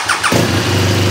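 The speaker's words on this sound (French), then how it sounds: "la moto démarre." A modern motorcycle engine cranks briefly with a couple of starter whirs, then catches and settles into a loud, steady idle close by.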